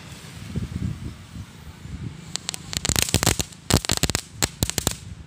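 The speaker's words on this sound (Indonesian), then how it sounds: "Ya, ini adalah mercon ayam bertelur." "Ayam bertelur" firecrackers set off on a mound outdoors, a rapid irregular string of sharp cracks and pops that follows a few seconds of low rumbling and rustling.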